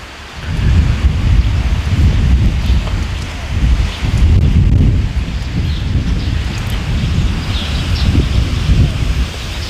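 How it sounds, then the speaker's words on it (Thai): Strong, steady wind roars and buffets around a water sluice gate in Sakon Nakhon, loud low rumbling gusts swelling and easing throughout with no voices. "ลมมากลมแรงมากเลยทุกคนนะ ลมแรงมากเลย"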